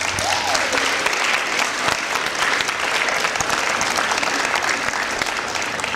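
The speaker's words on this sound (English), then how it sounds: "give your parents a round of applause." A school auditorium audience at a high school senior awards evening applauds the graduates' parents, a full, sustained burst of clapping from many hands that holds evenly throughout with some crowd noise mixed in.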